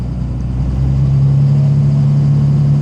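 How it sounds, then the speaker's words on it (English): A 2005 Cummins common-rail diesel engine with injector fuel rattle runs loud and close, giving a steady, even drone with a deep low hum that holds constant throughout. "It's got that fuel rattle."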